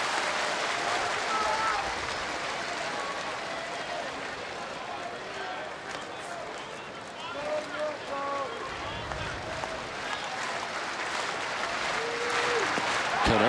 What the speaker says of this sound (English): This capacity crowd will stand as one at Fenway Park with 2 down in the top of the 9th inning.